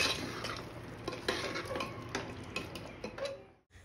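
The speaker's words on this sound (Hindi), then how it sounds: "अब हम यहाँ राजमा को अच्छे से मिलाते हुए इसको 1 से 2 मिनट के लिए भूनेंगे।" Kidney beans being stirred and sautéed in thick tomato puree, with soft scraping and clinks of a spoon against the pot over a faint sizzle, quiet and close, ending abruptly.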